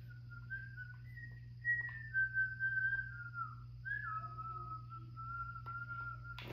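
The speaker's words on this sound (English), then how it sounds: "I whistle when I'm tense" A single person whistles a wavering, sliding melody, fairly close, over a steady low hum and faint background clatter.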